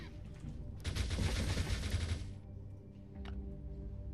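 A resonator weapon firing at zombies in Last Day on Earth, a dense burst of rapid crackling shots lasting about a second and a half, loud and close, followed by quieter scattered game noises.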